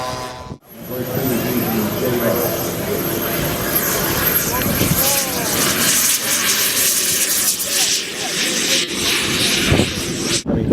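A model aircraft engine drones overhead at a radio-control flying event featuring a German Stuka and a Beech D-18S, a sustained buzzing whine rising and falling as it passes, with a voice talking over it.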